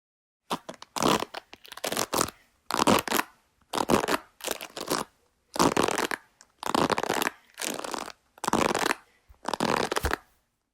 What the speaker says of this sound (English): that was the sound of me rubbing the bristles on my hairbrush